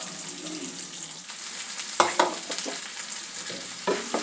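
Large chunks of eggplant sizzle in a pan with softened tomato for a spicy achari baingan, a steady frying hiss broken by a few sharp scraping stirs of a spatula, with no talking.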